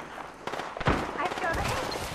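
Gunfire in Apex Legends, a few sharp shots in quick succession among game effects, with a voice talking over them.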